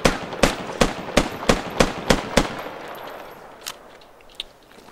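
Gunfire in the video game Squad Alpha V12: a rapid string of about eight sharp shots at an even rhythm, then a few scattered faint reports trailing off.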